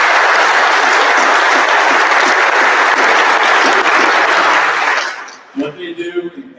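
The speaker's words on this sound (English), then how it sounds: "I think we need to give them a round of applause." A crowd at a high school football awards banquet breaks into loud, sustained applause that holds for several seconds, then tapers off as a voice begins speaking.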